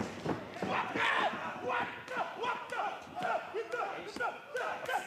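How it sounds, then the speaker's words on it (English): A wrestling crowd at a DragonGate show in Kobe Sanbo Hall chants in a steady rhythmic pattern with claps and thumps, filling the hall at a loud, even level. "The crowd chanting for both Doi and Yoshino now."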